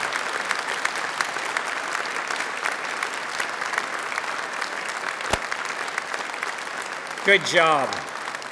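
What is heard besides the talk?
graduates applauding family and friends at degree ceremony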